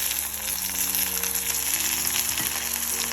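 Prawns fry with onion and ginger-garlic paste in a hot pan, a steady close sizzle with occasional soft stirring knocks, continuous throughout and free of talk.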